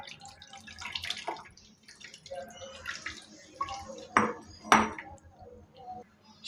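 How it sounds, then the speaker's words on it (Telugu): Tamarind juice poured into a pot for fish fry, heard as intermittent splashing and trickling with a few louder splashes near the end, close and fairly soft. "చింతపండు పులుసు పోసుకుంటున్నాను"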